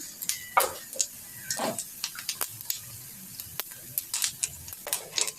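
Fennel seeds and a little fenugreek spluttering in hot oil for a Jaffna-style eggplant and chickpea curry, giving scattered quick crackles and pops at close range, irregular and fairly faint.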